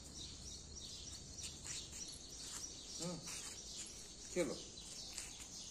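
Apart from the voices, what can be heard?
pet parrot Rio calling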